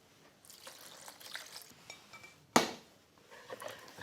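Chocolate mousse base being stirred together with cream in a bowl, soft scraping and swishing strokes in an irregular rhythm, close and fairly quiet, with one sharp louder clack of utensil against bowl partway through.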